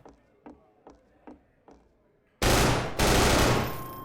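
Video game gunfire: a few sparse single shots tick by softly, then a loud sustained burst of rapid automatic fire erupts close up and keeps going to the end.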